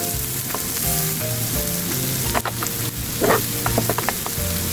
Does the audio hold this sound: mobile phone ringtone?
no